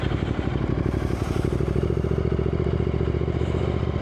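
A Ducati Multistrada 1200 V2 ridden slowly, its engine a steady, close, low throbbing rumble at low revs with a lumpy pulsing beat and wind noise, no voices.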